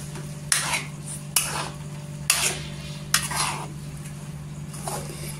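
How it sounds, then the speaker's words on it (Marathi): A spoon stirring an amla and jaggery mixture in a pan, with about five distinct metallic scrapes and knocks over a steady low hum. "आता आपण आहे ना चम्मचने मिक्स करून घ्यायचं।"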